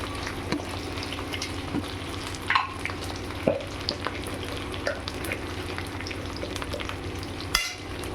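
A spoon stirs a Bengali bata fish curry with gatti kochu and pre-fried potatoes in a frying pan. Soft frying crackle runs beneath repeated scrapes and clanks against the metal, with one louder knock near the end.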